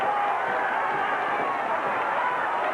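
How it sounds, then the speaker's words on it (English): A VFL Australian rules football crowd at a 1988 Brisbane Bears v Footscray match, rising to its feet in a dense, continuous roar that holds steady and loud for the whole stretch. "Oh, the crowd's up on its feet."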